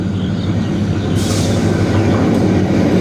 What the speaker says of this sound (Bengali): এই দেখো ট্রেন ওই যে আসতে আইলো